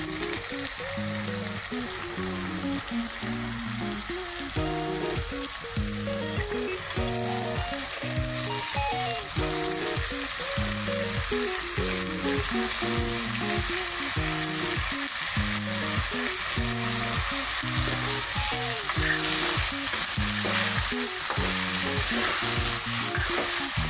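Moong lentils frying in a pan give a constant, loud sizzle over a steady, rhythmic pattern of repeated tones that carries on throughout.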